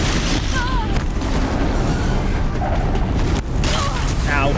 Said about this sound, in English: Who needs ice cannons? I got explosives.